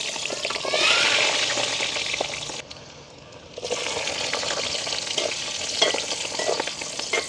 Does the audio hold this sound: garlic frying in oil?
yes